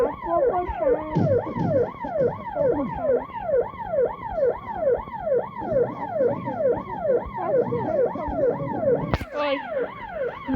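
Police sirens in a video game wail continuously in a steady rising-and-falling pattern, loud and close, with several siren tones overlapping and a brief sharp burst near the end.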